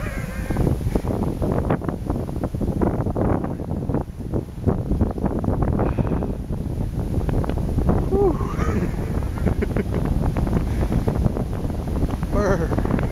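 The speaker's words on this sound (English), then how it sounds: "Oh, that wind is cold." Cold wind gusts across Mt Nakimushi near Nikko, Japan, roaring steadily and loudly against the microphone throughout.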